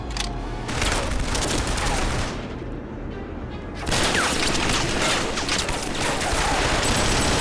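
Continuous automatic fire from turret machine-gun nests in the video game Killzone 3, a dense loud rattle with booming impacts, briefly easing before surging again.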